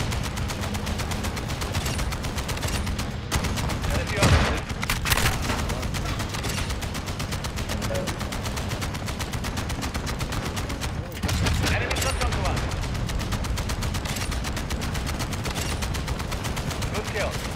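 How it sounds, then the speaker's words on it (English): Rapid shotgun blasts in Call of Duty Modern Warfare II on the small, crowded Shipment map, with dense overlapping gunfire and bursts of other weapons firing continuously, loud and close, alongside occasional game sounds. "I'm using a shotgun right now."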